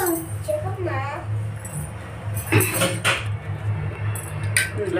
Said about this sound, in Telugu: ఇందులోకి వేసుకొని బాగా మిక్స్ చేసుకోవాలి.